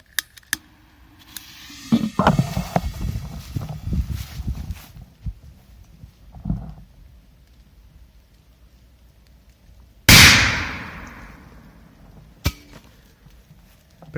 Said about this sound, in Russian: давайте ложим вот так петарду и чайник и поджигаем